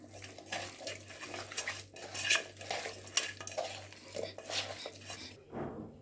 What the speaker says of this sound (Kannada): ಅರಿಶಿನ ಹಾಕಿ ಚೆನ್ನಾಗಿ ಕಲಿಸ್ಕೊಂಡು